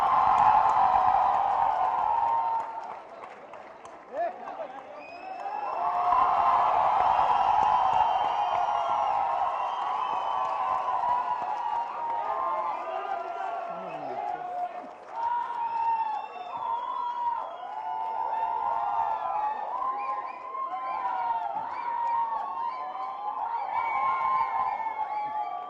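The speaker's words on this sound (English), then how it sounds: "please a loud round of applause for Mr." A crowd at an honouring ceremony for Amitabh Bachchan applauding and cheering, with dense clapping, whoops and shouts that rise and fall in waves, sustained and loud throughout.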